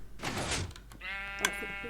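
A single Minecraft sheep bleats once, clear and close, after a brief burst of noise at the start.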